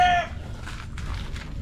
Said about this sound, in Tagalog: Kaya mga manok yan.